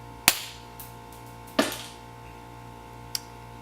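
A homemade coilgun fires a projectile at a board, giving a sharp loud snap followed by a second crack about a second later and a faint tick afterward, with no talk.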